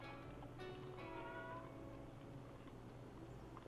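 A pet cat meowing nearby in a quiet room, one drawn-out howling meow up front that trails off into low background hum.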